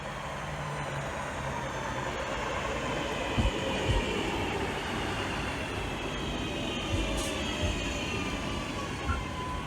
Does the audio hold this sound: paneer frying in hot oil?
no